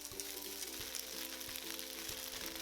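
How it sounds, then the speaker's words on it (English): Turnip cake pan-fries in a flat-bottom pan over medium-high heat, making a faint, steady sizzle with a few soft taps and a low background hum. "we're going to place the turnip cake in the pan and cook until lightly browned"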